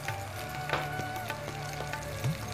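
Turmeric, chili, cumin-coriander and ginger fry with taro in hot oil, a quiet, steady sizzle with faint crackles and occasional stirring scrapes, with no talking.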